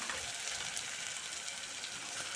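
Spice paste sizzling steadily as it fries in oil in a pan for paneer masala, a dense continuous crackling hiss with no pauses.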